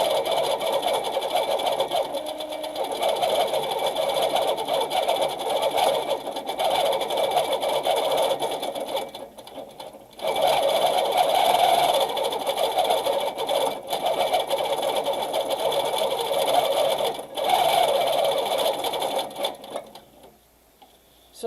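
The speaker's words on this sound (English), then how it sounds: "Now I'm going to add in the center of those a little freehand quilting." Baby Lock sewing machine stitching freehand quilting, a fast continuous mechanical hum and needle patter running in long stretches with brief pauses between runs, close and steady before stopping at the end.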